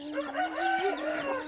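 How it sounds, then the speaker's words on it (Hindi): A mother hen in a village yard, out with a brood of around eighteen chicks, gives a continuous run of soft, close clucks and calls, with faint chick peeps mixed in. "देखो भाई कुकड़ी फिरती है माशाल्लाह"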